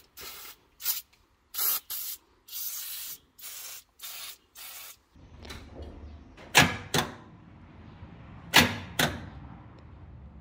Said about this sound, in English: let me get some PB on these valve springs